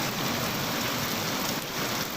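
Heavy rain pours over the Savadatti Yellamma hill temple grounds in a dense, unbroken hiss of drops on surfaces, loud and close throughout.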